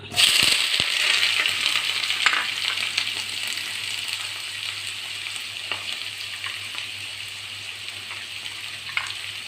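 Chopped onion and curry leaves fry in coconut oil, giving a steady close sizzle and crackle with a few light clicks of a utensil against the pan, fading slightly as the frying settles.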